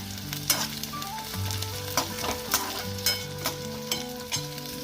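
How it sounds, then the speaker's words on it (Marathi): Chickpeas sauté in hot oil for a spicy village-style chutney, giving a close, steady sizzle broken by sharp pops and stirring clatter, with faint music playing underneath. "तेलावर हरभऱ्याचे दाणे मी परतून घेते आणि ते उडत आहेत"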